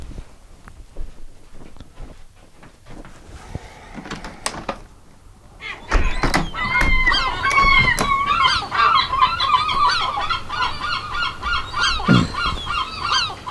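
Gulls call loudly outside an open upstairs window, a harsh chorus of overlapping squawks and wails that starts abruptly and carries on continuously, close and dense, after a quieter stretch of clicks and knocks.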